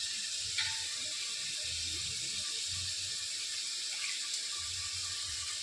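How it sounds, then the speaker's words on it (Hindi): Rice being washed in water in a home kitchen, a steady close wash of running, splashing water that lasts throughout, with no voices. "चावल धो दूँ मैं।"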